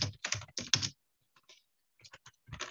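Fingers type on a computer keyboard in short bursts of close, crisp keystrokes, with a pause in the middle before a final quick run of taps.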